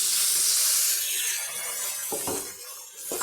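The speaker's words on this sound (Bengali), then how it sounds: "আর এবার একটু জল ঢেলে দিচ্ছি নাহলে মশলাটা পুড়ে যাবে" Water poured into a pan of frying ground spices, turmeric, coriander, cumin and cinnamon, for a radish dish bursts into a loud hiss of steam that slowly fades, with a couple of short clinks near the end.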